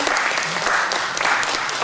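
An audience at a delegate's event claps steadily in a brief burst of applause, dense and even for its short length.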